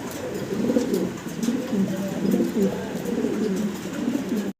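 Blue-bar Mundian fancy pigeons, a male and a female kept in a cage, give soft repeated throaty coos in a steady pulsing rhythm, close and moderately loud.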